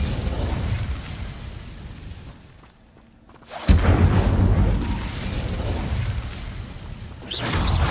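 An Incendio fire spell in Hogwarts Legacy sounds as a roaring, rumbling rush. It dips briefly to near quiet, then bursts out in a loud whooshing blast that keeps churning.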